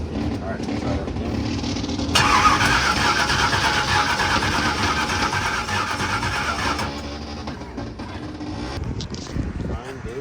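The engine of a Bonneville land speed record car cranks slowly, then catches and runs loud and rough for several seconds before settling. Voices talk close by at the same time.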